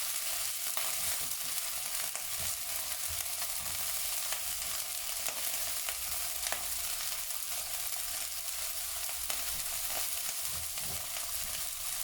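Chicken sizzling steadily in a pan with teriyaki sauce, a continuous crackling fry with faint stirring, close and even throughout with no talk.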